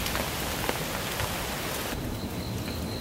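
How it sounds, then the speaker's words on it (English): Pouring rain at night on a warm mountain hike near Taipei, a broad constant hiss of falling water that fills the clip and thins slightly toward the end. "It's pouring rain out."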